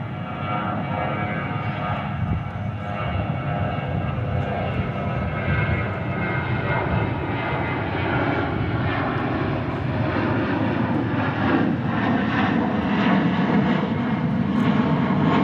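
A UPS cargo jet passes an airport during plane spotting, its engine roar steady and loud throughout with a broad whooshing rumble and no talking.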